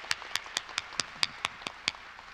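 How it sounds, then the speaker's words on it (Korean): Scattered handclaps from a church congregation during an early-morning special prayer service, about eight sharp, separate claps in a loose rhythm over a quiet room, sounding like only a few people clapping at moderate distance. "하나님께 영광의 박수 올리겠습니다."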